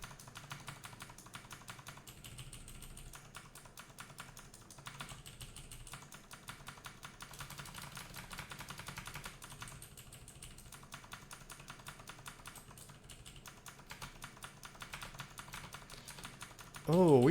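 Rapid, steady computer keyboard tapping from repeated Tab key presses runs throughout, moderately loud and even, with a brief burst of other sound at the very end.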